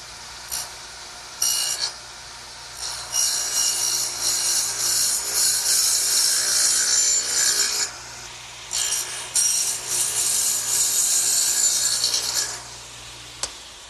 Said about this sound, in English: now let's turn it over and dado out for the shelf.